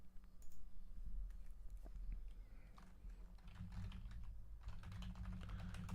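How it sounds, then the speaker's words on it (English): Quick keypresses on a calculator, heard as soft, close, irregular clicks in short bursts at a low level with no talking. "so let me quickly type it into the calculator"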